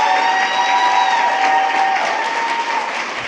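Families in the audience at a school board meeting clap steadily for the scholars, a dense, sustained round of applause with no talk over it.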